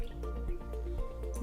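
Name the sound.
pouring Grey Goose vodka into a glass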